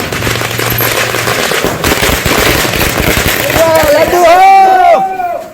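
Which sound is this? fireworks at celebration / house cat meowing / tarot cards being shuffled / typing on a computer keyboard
fireworks at celebration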